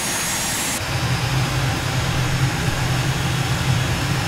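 An A-10C Thunderbolt II jet engine in Microsoft Flight Simulator spooling up, a broad steady roar with a low pulsing drone that builds after a whining start, loud and close.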